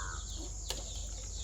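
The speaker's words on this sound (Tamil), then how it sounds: "கோழி." A country chicken clucks briefly and close by at a home, over a steady low background hum.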